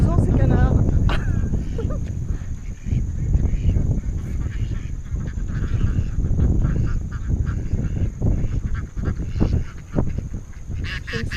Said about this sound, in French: Ils sont amusants ces canards.